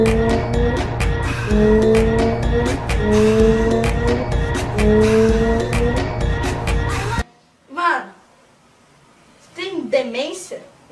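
A truck in the Cleanopolis VR video game drives with a loud, rising and falling engine drone and tire squeals for about seven seconds, then drops out, leaving brief bursts of skidding and a voice talking.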